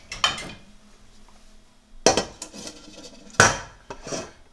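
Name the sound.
lid put on pot of semolina halwa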